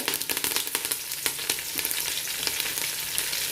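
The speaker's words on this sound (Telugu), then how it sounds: "తర్వాత కడిగి కరివేపాకు ఆరిన తర్వాత నూనెలో వేసేసుకోవాలి." Washed, dried curry leaves drop into hot oil with broken dried red chillies while making spiced puffed rice, setting off a dense close crackling sizzle with quick pops, heard alone.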